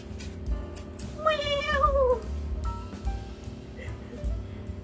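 A cat near a Xiaomi Pawbby smart pet water dispenser gives one clear, drawn-out meow with a wavering, rising-then-falling pitch, set against a steady low hum and soft background noise.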